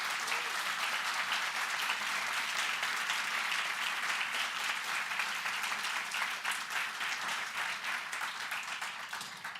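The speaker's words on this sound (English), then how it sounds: "let's give them all a round of applause" Sustained applause from a forum audience for a panel of Supreme Court candidates, a dense, even wash of many hands clapping that continues steadily and fades slightly near the end.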